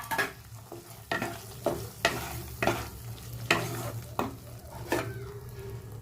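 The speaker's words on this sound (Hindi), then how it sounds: "अब इसमें हम ग्रीन मटर ऐड कर लेंगे।" Green peas stirred into a frying masala in a pan for kadai mushroom, with a spatula scraping in a regular rhythm of clear strokes over a steady close sizzle, no talking.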